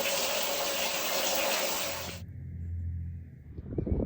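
Cold mains water gushes loudly from a tap in a house with a new heating boiler installation, then cuts off abruptly, leaving a low hum and faint clatter.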